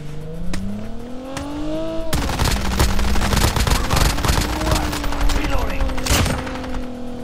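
Gunfire in a Call of Duty Mobile battle royale match, bursts of rapid shots joining a sustained engine-like roar after a short quieter opening, loud and continuous.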